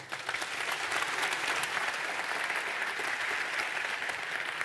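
A conference audience applauds speaker Pablo Stanley in a long, even wash of clapping that stays loud and steady, with no voices over it.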